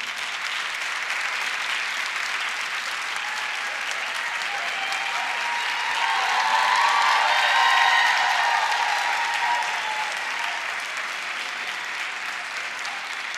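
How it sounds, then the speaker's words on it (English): An audience at a county budget public hearing applauds a speaker with steady, dense clapping that swells louder midway and then eases back down. "That's the most applause I've heard anybody from in all the years I've done this."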